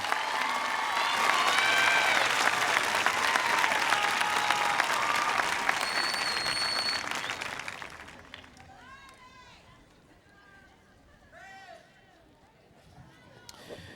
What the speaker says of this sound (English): Please welcome me with applauding these officers.